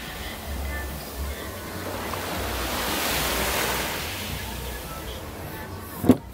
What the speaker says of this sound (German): erkennt man die Wellen